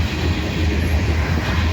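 A freight train of loaded grain hopper cars from various owners rolls past at Abbeville, a close, steady rumble of wheels and cars with no break.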